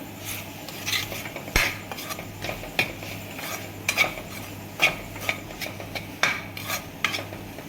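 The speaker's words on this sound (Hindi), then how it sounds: "नमक मिर्च पा के पा के आप चंकी तरह मिक्स कर देंगे" A spoon mixes salt, chili, amchur and chaat masala in a bowl for a soyabean roll filling, a close run of scraping strokes and sharp metallic clinks against the bowl at an irregular pace, with no one talking.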